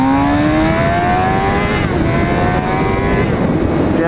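A 2013 Suzuki GSX-R 600 sport bike pulls hard through its gears, the engine note climbing steadily with rising harmonics under heavy wind roar, loud and continuous for about four seconds.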